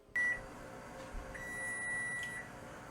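A kitchen timer sounds as bagels finish baking in a cast iron pan, with two shrill electronic beeps, a short one followed by a longer tone, heard up close in a quiet kitchen.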